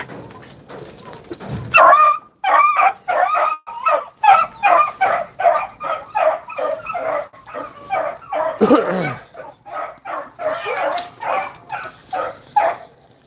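Beagle hounds, ready for a rabbit hunt, bark and yip in a rapid, steady series of close, loud calls, with whimpering and whining mixed between the barks and no talking.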